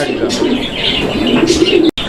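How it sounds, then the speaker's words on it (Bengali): A pair of white Bombay pigeons coos in a steady, low, murmuring stream, close and fairly loud, with faint background activity and a brief dropout near the end. "একজোড়া বোম্বাই কবুতর সাদা রঙের"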